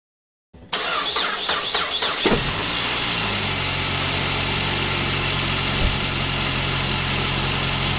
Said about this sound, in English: That's a happy engine right there.